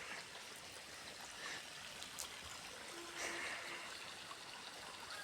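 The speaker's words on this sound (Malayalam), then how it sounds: "തെങ്ങിൻ്റെ കടക്കിലേക്ക് വെള്ളം." Water trickles and flows steadily toward the base of a coconut tree in a garden plot, a quiet continuous stream with faint background sounds and no speech.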